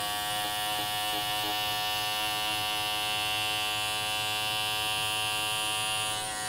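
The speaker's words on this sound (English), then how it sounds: "Now we go in, I got my Andis tea trimmer." An Andis T-trimmer hair clipper runs with a steady, close electric buzz and high whine that holds constant throughout, with no talking.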